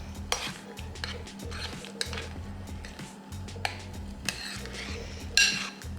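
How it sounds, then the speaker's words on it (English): A spoon stirs oatmeal with chopped zucchini in a pot, scraping and clinking against the metal in repeated strokes, close and clear, with no voices. "So I will stir it up."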